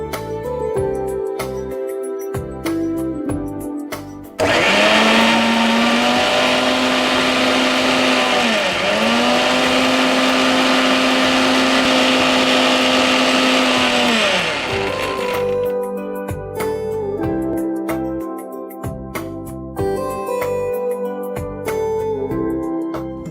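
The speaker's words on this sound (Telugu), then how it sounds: "ఇప్పుడు మనం దీన్ని మిక్సీ పట్టేసుకుందాం." A mixer grinder blends green juice at high speed, a loud steady whir lasting about ten seconds with a brief dip in pitch midway, starting and stopping abruptly.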